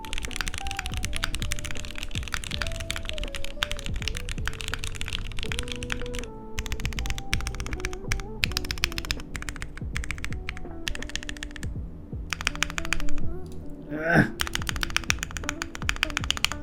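A Zoom75 EE mechanical keyboard with lubed Gateron switches is typed on at a steady, fast pace, giving close, crisp, muted clacks with occasional heavier spacebar thocks, heard alone.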